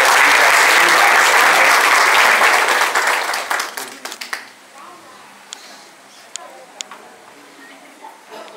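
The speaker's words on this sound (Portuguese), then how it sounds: "Então vocês podem bater palmas" Wedding guests clap loudly together at a ceremony in Carnaúba; the dense applause fades after about four seconds, leaving a few scattered claps and quiet room sound.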